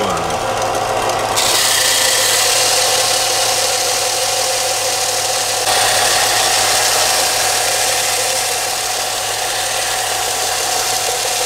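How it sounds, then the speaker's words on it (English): Steady abrasive sanding on wood, a continuous rough rasp with a faint motor hum underneath, close and loud throughout. "so let's start sanding. Here goes coaster number one."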